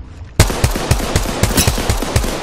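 Rapid gunfire in the video game Apex Legends, a burst of repeated sharp shots fired close and loud in steady rhythm after a brief quiet start.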